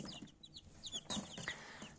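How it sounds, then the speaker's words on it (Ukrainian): Lakenfelder chicks cheep and chirp in quick, high, scattered peeps, close by, with soft rustling underneath and no talking. "Ось такі гарненькі курчатка породи Лакенфельдер."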